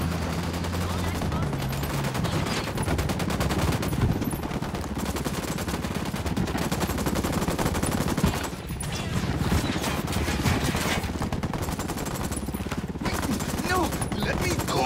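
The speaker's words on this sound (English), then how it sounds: "Opening fire." Sustained gunfire rings out in the video game Ghost Recon Wildlands, dense and continuous over a steady backdrop with repeated bursts, a short lull midway, then firing resumes.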